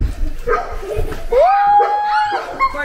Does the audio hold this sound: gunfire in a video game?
no